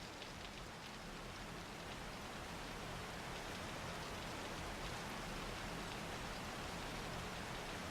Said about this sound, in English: That rain's really loud.